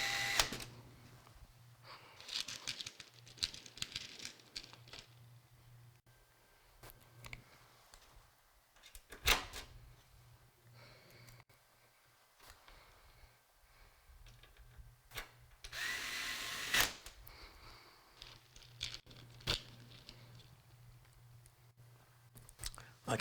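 Small screws go into threaded motherboard standoffs during a high-end gaming PC build, heard as quiet, intermittent clicks and short ratcheting bursts with pauses between them, close and faint.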